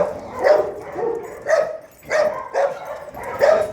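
Dogs at play give several short barks and yips in quick bursts, close by, with uneven pauses between them.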